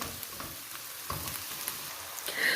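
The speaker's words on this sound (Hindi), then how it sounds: "मिक्स करेंगे और इसको भी हल्का सा फ्राई करेंगे" A steady sizzle of garlic and ginger paste frying in a pan, with light scraping and stirring clicks, no talking.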